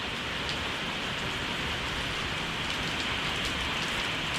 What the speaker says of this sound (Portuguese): Chovendo.